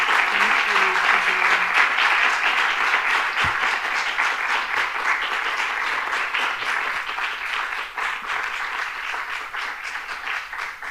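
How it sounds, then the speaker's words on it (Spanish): An audience at an inaugural lecture gives a sustained round of dense applause, loud and steady throughout, with brief voices beneath it. "un aplauso para Antonella Luque"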